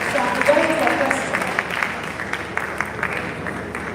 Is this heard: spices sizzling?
no